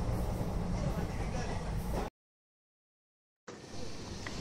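A long-distance train rolls slowly into Chennai, a steady low rumble and rattle of carriages heard close by, broken by a brief gap of silence before the rumble resumes.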